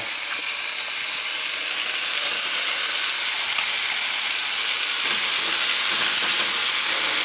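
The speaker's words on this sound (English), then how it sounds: "We're going to put the skin side down in the pan." Chicken thighs fry skin side down in a pan with a loud, steady sizzle and crackle that fills the whole stretch, close up with no talk.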